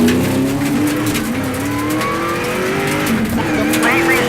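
NASCAR Super Late Model race cars roar loudly around an oval during a 75-lap feature, engines droning and shifting pitch continuously with brief tire scrubbing, while a commentator talks over the din.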